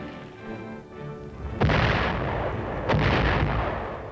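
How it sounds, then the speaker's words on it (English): Mortar fire on a battlefield: two heavy, loud booms about a second apart, each with a rumbling tail, over a low background hum. "Mortar fire is one of the infantryman's greatest enemies."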